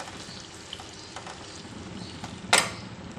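Cauliflower sabzi cooking in a pan with spices and salt gives a low, steady sizzle throughout, with a brief louder scrape or stir burst near the end.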